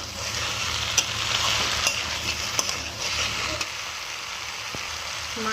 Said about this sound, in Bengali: দিয়ে ভালো করে একসাথে নেড়ে নেবো